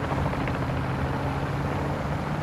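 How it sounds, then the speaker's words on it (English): A helicopter in the video game Call of Duty: Modern Warfare II gives a loud, steady, broadband rotor and engine roar that fills the whole moment without a break. "Oh shit, chopper."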